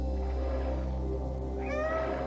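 A cat meows in the video game Stray, a single drawn-out call rising near the end over a steady low game soundscape, heard alone and fairly close.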